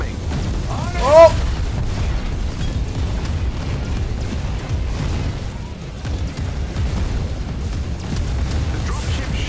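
Artillery shells burst in the Marvel's Avengers game during an Iron Man armor chase, one sharp loud blast early on, then a continuous rumbling barrage of booms and game noise.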